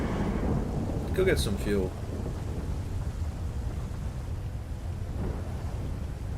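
A thunderstorm in GTA FiveM roleplay, a loud, deep, continuous rumble of thunder with heavy rain throughout, while someone speaks briefly over it.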